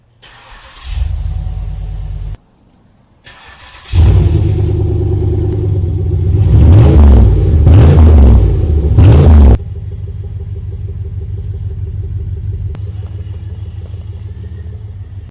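A Pontiac Grand Prix GXP, long abandoned and in rough shape, cranks over and catches, settles into a loud close idle, then revs hard through several rising pulls before dropping back to a steady lower rumble; no talking.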